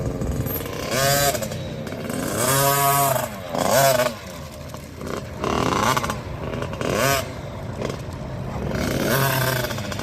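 A motorcycle with a swapped motor on an SYX build runs and revs, its engine note rising and falling in repeated surges across the clip, close and loud, with no voices.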